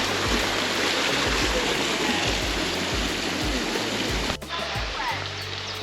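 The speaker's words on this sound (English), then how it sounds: "And this huge waterfall." The Dreimühlen waterfall roars as a dense, continuous rush of water, with a brief dip near the end before the steady wash resumes.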